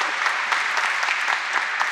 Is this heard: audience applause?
yes